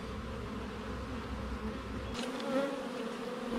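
Honeybees buzz steadily and close by from an open hive, a continuous droning hum that shifts slightly in pitch as individual bees move past.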